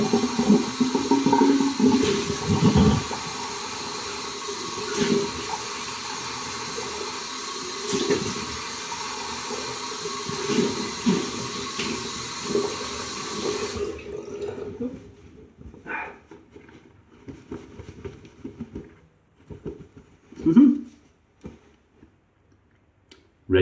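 Cold tap water runs steadily into a basin while a face is rinsed after shaving, a hissing flow for about fourteen seconds that stops abruptly, followed by quieter splashes and handling noises with a voice speaking.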